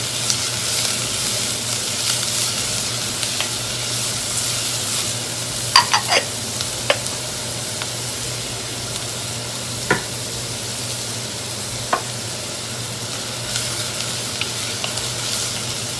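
Onions and carrots sweat in a pan with a steady, even sizzle, broken by a few sharp clicks of stirring, close and with no one talking.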